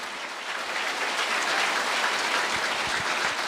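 A church congregation breaks into loud, dense applause that rises slightly and keeps going at full strength for a few seconds, with no speaking over it.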